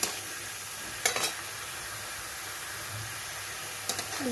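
Spinach leaves frying in a pan with salt and turmeric as the water cooks off, a soft steady sizzle with a few brief scraping stirs, heard up close without talk.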